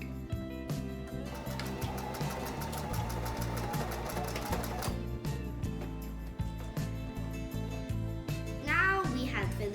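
A sewing machine stitches a fabric fox bag in fast, even bursts of mechanical chatter, briefly pausing and restarting, close and steady throughout.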